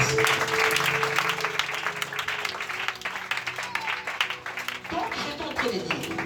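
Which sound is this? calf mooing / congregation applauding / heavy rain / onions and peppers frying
congregation applauding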